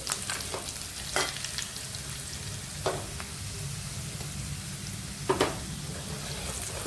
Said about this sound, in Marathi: हळदी पावडर टाकली आहे, ती पण छान परतून घ्यायची।